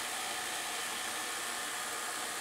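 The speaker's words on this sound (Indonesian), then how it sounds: "Baling-balingnya bisa berputar cukup kencang." A small propeller on a homemade soda-can airplane fan spins fast, giving a steady, loud whirring hiss with no pauses and no talking.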